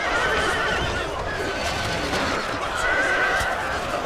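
Horses whinny and neigh amid a battle in Shogun 2 Total War, shrill cries rising over a dense, constant roar of combat with scattered hoof clatter.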